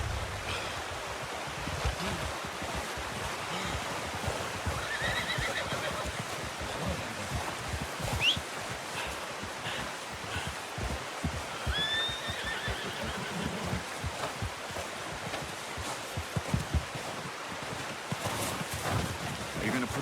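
A horse in the video game Red Dead Redemption 2 whinnies briefly amid continuous outdoor ambience with water and hoof movement, the neighs soft and short against the background, with some talk.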